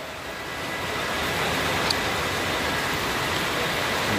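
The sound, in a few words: heavy rain in the mountains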